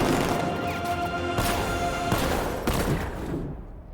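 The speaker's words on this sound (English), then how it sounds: "That's a horrible looking explosion." Tank 60mm cannon fire and explosions in the Batman Arkham Knight video game sound as a dense, loud barrage of booming blasts and crashes, with a few heavier hits standing out before the noise fades away.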